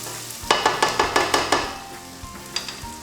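Onion, celery, garlic and bacon cook in a pot for clam chowder, with a run of close scraping stir strokes over a steady background sizzle, then a few fainter stirs.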